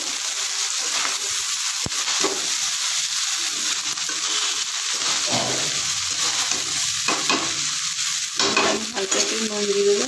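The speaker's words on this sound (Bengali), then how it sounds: "ভালো করে মিক্স করে নেবো।" Garlic rice being stirred and fried in a pan, with a steady loud sizzle throughout and scraping spatula strokes over it, no talking.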